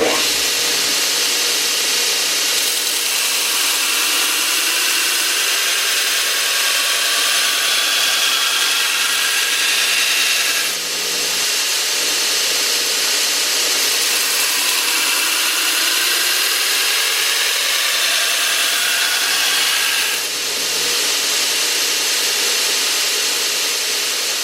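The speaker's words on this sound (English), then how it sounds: "Boy, this big grinder sure makes a difference." A 2x72 belt grinder grinds a taper onto a knife blade held in a taper jig, a loud steady abrasive whine running continuously, with brief dips as the blade is repositioned.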